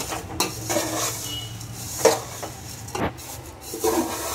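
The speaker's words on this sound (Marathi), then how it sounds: "आता हे पोहे जे आपण भाजतोय ना" Poha being dry-roasted and stirred in a pan with turmeric gives a soft hiss broken by a few sharp scraping and clinking strokes of a spoon against the pan, close by with no talk.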